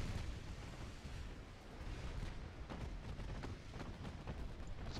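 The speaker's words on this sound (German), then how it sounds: "Explosion auf dem Torpedo." Naval battle explosions and gunfire in the Ultimate Admiral Dreadnoughts warship game, including a torpedo hit, rolling as a dense, continuous rumble with repeated booms throughout.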